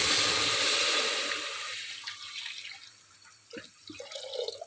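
Water is poured into a cooking pot, measured for three glasses of rice: a steady gushing splash that tapers off after a second or so into a few light drips and clinks, close by.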